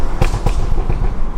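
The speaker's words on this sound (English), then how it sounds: "And there's the burbles now." A Stage 2 tuned BMW exhaust gives off a couple of sharp pops and crackles over a steady low rumble, recorded close and loud.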